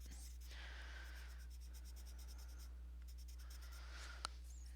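Coloured pencil scratching over paper up close, repeated back-and-forth strokes in bursts with short pauses, a dry rhythmic scraping with no talk.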